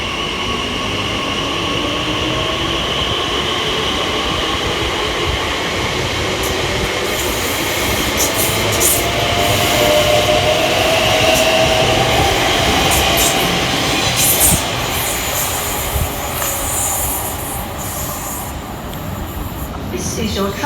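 A Class 345 Elizabeth Line train, unit 345024, pulls out of Stratford on the Great Eastern Main Line, a loud steady rumble with rising motor whine and wheel squeal close by, fading slightly toward the end.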